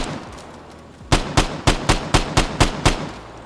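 Eight evenly spaced single-fire gunshots from a gun in the video game Vigor, sharp loud cracks in a steady rhythm after a second of quiet ambience.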